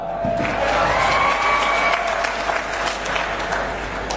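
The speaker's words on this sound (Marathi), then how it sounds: "टाळ्या वाजवा" A crowd at a live cooking demonstration claps loudly and evenly throughout. A faint tonal hum runs beneath the applause.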